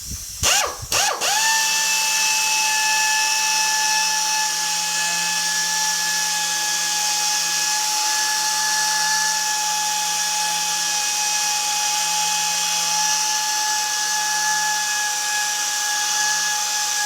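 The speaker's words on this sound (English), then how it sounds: "I'm going to use my little 2-inch polisher, my mini polisher with a 2-inch foam pad on it" A 2-inch mini polisher with a 2-inch foam pad whines steadily and loudly at close range, with a brief burst of startup noise before the motor settles into an even, sustained tone, worked on the inside of the doors of a 1950 Chevy truck.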